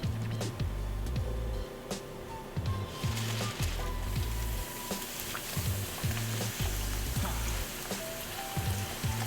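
Fresh frying grease heats up in a pot for deep frying chicken, a steady close crackle and sizzle running throughout with dense pops and no talking.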